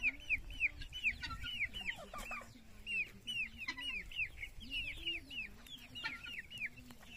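Upgraded native chickens on a Philippine livestock farm cluck and chirp repeatedly in a steady stream, several birds close by with a low ambient hum beneath.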